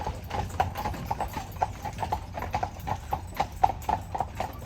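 Steady clip-clop of carriage horse hooves on pavement on Mackinac Island, Michigan, a brisk even rhythm of sharp knocks over low rumbling background noise.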